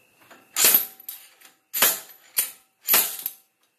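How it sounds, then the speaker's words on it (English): An axle bearing is forced back and forth out of its seat by hand. It gives four sharp, loud metallic clacks and rattles at roughly even intervals, with fainter scraping in between. "with your other hand you're going to go in a back and forth motion really hard to get this axle bearing out"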